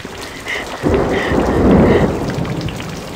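Heavy rain and rolling thunder from the horror video game Corpse Party Blood Covered Repeated Fear, a steady downpour with a deep rumble swelling midway and easing off, no voices.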